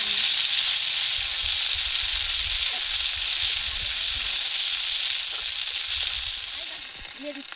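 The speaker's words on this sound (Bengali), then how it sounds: "সর্ষে ফোড়ন সর্ষে এই মা ঠিক আছে সামনে কাঁচা লঙ্কা বাটা দিয়ে দিচ্ছি" Mustard seed tempering sizzles hard in a pan as green chili paste goes in, outdoors in a Bengali village kitchen, making a dense, continuous frying hiss with occasional small pops and clinks.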